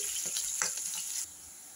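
Onions and green chillies fry with cumin in a pan, giving a steady, close sizzling hiss that eases slightly near the end.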